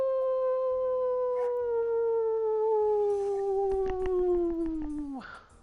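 A dog howls in RuneScape's Kourend region, one long, loud, sliding wail that slowly falls in pitch before cutting off abruptly at the end.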